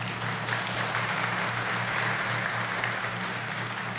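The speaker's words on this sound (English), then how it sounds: "how about another round of applause?" Steady, dense applause from an audience at a retirement ceremony for a petty officer, even and continuous from start to finish with no voices standing out.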